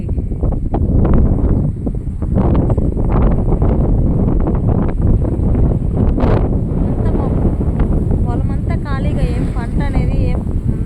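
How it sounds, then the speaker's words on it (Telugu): Strong wind buffets the microphone in a steady roar over an overgrown farm field of thorny weeds and grass, with rustling and a few bursts of louder gusts throughout. "గాలి మాత్రం సూపర్ గాలి"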